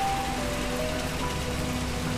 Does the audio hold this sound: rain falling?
yes